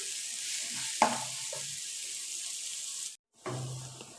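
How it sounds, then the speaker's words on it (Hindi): Garlic fries in hot oil with a steady bright sizzle, close and even, broken by one utensil knock early on and a brief dropout before the frying resumes. "दो मिनट फ्राई करेंगे इसे"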